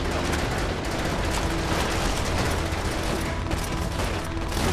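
Gewehr rifle fire in Call of Duty: World at War, dense continuous gunfire and battle noise filling the whole stretch, loud with overlapping shots and mechanical clatter.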